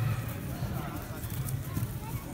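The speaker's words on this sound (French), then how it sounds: "on marche donc avec la femelle de Masterstroke" A mare sired by Masterstroke walks through the ring at a 2017 horse auction in Decize, her soft clip-clop hoofbeats rising repeatedly beneath steady voices and crowd noise.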